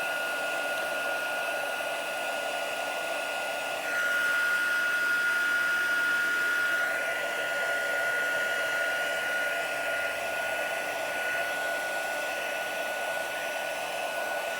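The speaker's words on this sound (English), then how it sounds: "Sometimes it takes a little while for your heat tool to heat up when you're starting." An embossing heat tool blows a steady, loud whirring hiss of hot air, holding constant with a slight shift in pitch partway through, with no voices.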